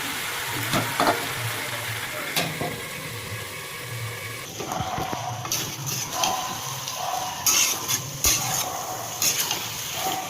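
Chicken pieces for biryani sauté in a pan, a soft continuous sizzle with scraping and stirring clatter from the spoon, close by and moderately loud, with occasional sharper knocks against the pan.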